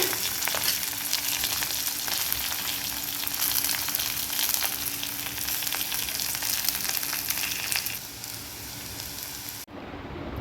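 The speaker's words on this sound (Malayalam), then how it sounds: "കറിവേപ്പിലയും കൂടി ഇട്ട് കൊടുത്ത് ഇത് നല്ലോണം ഒന്ന് വാട്ടിയെടുക്കേ" Shallots and curry leaves sautéing for crab curry give a steady, close, dense sizzle with crackling throughout, briefly dropping near the end; no voices.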